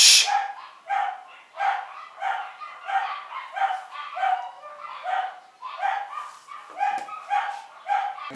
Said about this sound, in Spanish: ¡Malditos perros! ¿Saben qué difícil es grabar con perros?